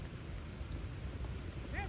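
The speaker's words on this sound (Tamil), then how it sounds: "மழை நிற்கவே இல்லை" Steady rain falling at a cricket ground during a tournament match in Coimbatore; a soft, continuous low hiss fills the brief clip, fairly faint, with no talk.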